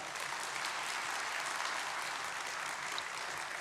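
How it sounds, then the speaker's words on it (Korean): A church congregation claps steadily to welcome a guest pastor at an evening worship service, a dense, even applause that fills the room throughout without any voices. "우리 박수로 크게 환영하도록 하겠습니다"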